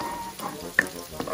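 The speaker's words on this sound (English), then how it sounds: "then you have to add the tomatoes, 1 whole tomatoes, medium size" Onion, garlic and tomatoes stir fry in a pan for a Filipino squash dish, a soft, close sizzle with a couple of faint stirring scrapes.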